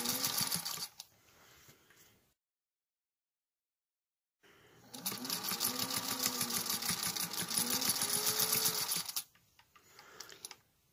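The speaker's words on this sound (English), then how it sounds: "now I can finish sewing it to my placemat with the 1/4 inch seam" A sewing machine stitches a 1/4 inch seam on a placemat in two rapid, steady bursts: a short run, a pause of silence, then a longer, even stretch of close mechanical whirring.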